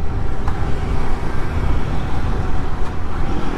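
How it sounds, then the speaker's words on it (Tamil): A Royal Enfield Guerrilla 450 motorcycle engine pulls through a clutchless gear shift on the road, a loud, close, rough roar mixed with wind buffeting and no talk. "நான் ஒரு கிளச்லெஸ் ஷிஃப்டிங் பண்ணுறேன்."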